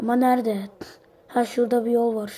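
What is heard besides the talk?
No everyday noise stands out behind the speech.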